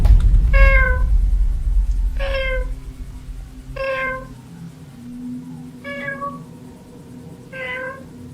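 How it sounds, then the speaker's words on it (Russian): A cat gives five separate meows at roughly even intervals over a low, rumbling background. "Уже неоднократно слышал мяуканье."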